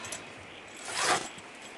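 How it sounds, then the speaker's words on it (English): A zipper drawn closed along the stiff canvas of a slide-on Cockatoo camper, one steady rasping pull swelling near the middle and fading, close and fairly quiet. "This gets zippered up."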